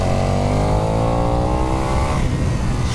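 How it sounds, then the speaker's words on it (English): A 2022 KTM 1290 Super Duke EVO motorcycle engine braking on a damp hill climb, its loud revving note winding steadily down as the bike decelerates, close and continuous with no talk. "Beautiful engine braking as well."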